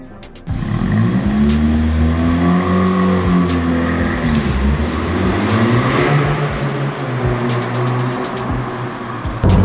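A 2017 Honda Civic Si engine hums steadily from inside the cabin, its pitch rising and falling as the car accelerates and shifts while driving.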